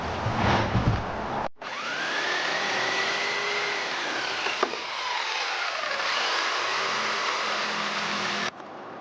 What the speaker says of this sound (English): We'll take our jigsaw to that, cut it out first, and it should slide in there.